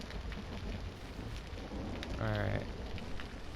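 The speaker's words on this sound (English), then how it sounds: "it's not gonna stop raining, huh?" Steady rain falls in a video game set on a shore, a dense continuous hiss throughout, while someone briefly speaks over it.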